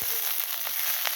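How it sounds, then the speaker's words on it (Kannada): Ingredients for chavali kayi palya (cluster bean stir-fry) sizzle steadily in hot oil, a continuous close frying hiss with a few brief crackling bursts and no voices. "ಈಗ ಇನ್ನೊಂದು ಸ್ವಲ್ಪ ಎಣ್ಣೆ ಹಾಕ್ಕೊಂಡು ಹುರ್ಕೊಳಕತ್ತೀನಿ ನೋಡಿರಿ"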